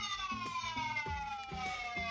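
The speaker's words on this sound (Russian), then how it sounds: "И причем звуки, ну, сирены, да" An electronic siren wails continuously from the small speaker of a toy model Aurus car, its tone gliding down, with a bouncy patterned melody pulsing beneath it.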